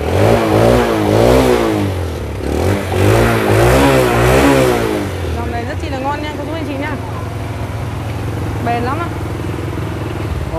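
A Honda motorbike engine revs at a motorbike shop, rising and falling in repeated throttle blips with someone talking loudly over the first half, then idling and revving on under quieter speech.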